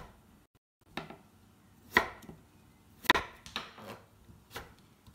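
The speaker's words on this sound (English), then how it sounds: "This is a butternut squash. And we're gonna cut in cubes." A knife chops through a butternut squash, cutting it into cubes: several sharp, close chopping strikes spaced about a second apart, each a crisp thud against the board, with no talking.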